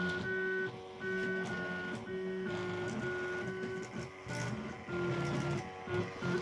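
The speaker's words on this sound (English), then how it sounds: "This printer is also super loud." A homemade counterweight 3D printer runs loudly, its stepper motors whining in steady tonal bursts that change pitch with each move and pause only briefly, close and continuous, with no talking.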